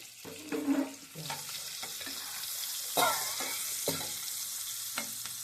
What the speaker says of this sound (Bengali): এখন আমি কেটে রেখেছিলাম পেঁয়াজ, এই পেঁয়াজ কুচি দিয়ে দিচ্ছি